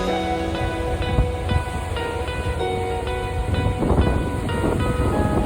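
Strong wind at Stewart Lake buffeting the microphone, a continuous rough rumble that swells and gusts, loud and close, with faint background music.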